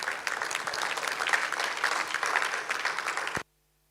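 Audience applause at a development conference session, a dense steady wash of clapping from many hands that carries evenly for several seconds before cutting off abruptly.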